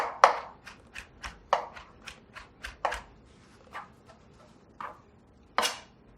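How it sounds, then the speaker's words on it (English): A knife chops through raw tuna on a board in about a dozen sharp, close strikes at an irregular, unhurried rhythm, with quiet gaps between the cuts. "So we're going to chop all this up"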